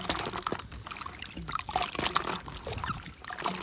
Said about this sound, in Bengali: এবার পরিষ্কার পানি দিয়ে ধুয়ে নেব